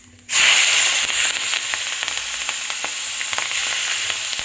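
Green chillies drop into hot oil with cumin seeds for a koi fish curry, setting off a sudden loud sizzle that settles into steady crackling and spitting frying.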